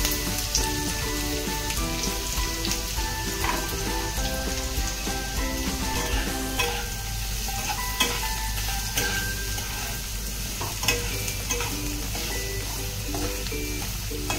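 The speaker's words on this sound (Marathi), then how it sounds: "कांदा छान तांबूस रंगाचा होईपर्यंत आपण परतून घेऊया।" Chopped onion fries in a pan, a continuous close sizzle and crackle with occasional clicks of stirring, steady throughout and without talk.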